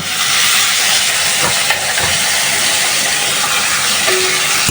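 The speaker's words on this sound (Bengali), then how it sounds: "আজকে মাছের শুটকিটা বসায় দিই পেঁয়াজ রসুনের সাথে কাজকি মাছগুলো হালকা একটু ভেজে" Dried kachki fish fries in oil with onion and garlic, a loud steady hiss of sizzling close up, broken by a few soft knocks and a short tonal squeak near the end, with no voices.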